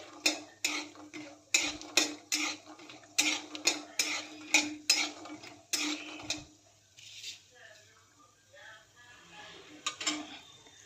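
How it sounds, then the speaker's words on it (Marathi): A spoon clinks and scrapes repeatedly in a pan as peanuts fry with tomato, onion and chilli, a rhythmic run of metallic taps that thins out toward the end, with faint frying beneath. "शेंगदाणे थोडे भाजत आलेले आहेत त्यानंतर टोमॅटो कांदा मिरची घालते यामध्ये"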